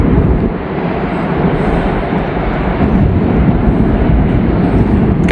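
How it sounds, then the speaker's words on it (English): A long freight train rolls southbound over an old bridge above the Kentucky River, a steady, loud broadband rumble of wheels and cars that carries on without a break. "Got us a long train here."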